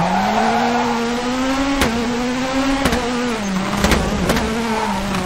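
Rally car in WRC 4 swinging through a handbrake turn at a hairpin, engine droning steadily with a pitch dip and recovery, sharp tire scrubs and skid bursts cutting in, loud and close throughout.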